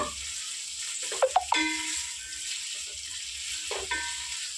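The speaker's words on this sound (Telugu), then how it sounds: "ఉల్లిపాయలు మొత్తం వేగిపోయినాయి బ్రౌన్ కలర్ వచ్చేస్తున్నాయి కదా" Sliced onions frying in oil in a pan for egg biryani, a continuous hissing sizzle close up with a few sharp utensil scrapes and clinks as they are stirred, no voices.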